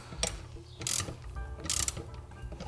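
A 5/8 socket wrench ratchets while tightening a bolt on a sling bag mount, giving several short bursts of clicking separated by brief pauses, close and fairly loud.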